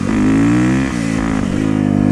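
A motorcycle engine revs hard as the clutch is popped for a wheelie, a loud rising whine that dips briefly and then climbs again, close by and with no talking.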